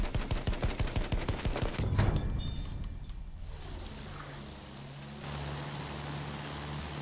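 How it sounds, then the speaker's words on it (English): A fortress gun firing in Battlefield 1, heard as a rapid train of repeated shots over the first two seconds and then fading into a rushing, wind-like roar and distant rumble. "He's actually trying to shoot me down with a fortress gun"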